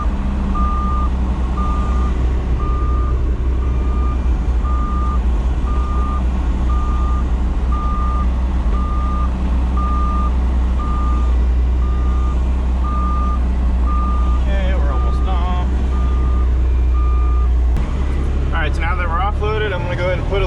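A Cat 303.5 mini excavator backing up, its steady reversing beeps repeating evenly over a loud diesel idle rumble for most of the stretch, with clanks and someone talking near the end.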